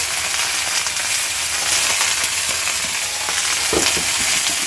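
Mixed vegetables frying in oil with panch phoron and dried red chili, a bright continuous sizzle close to the pan, with occasional soft stirring knocks and no voices.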